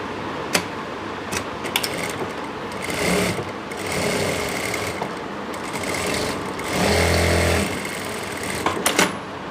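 A sewing machine stitching a pocket closed on palazzo pants, running as a steady close mechanical whir with a couple of faster, louder surges and a few light clicks at the start and end.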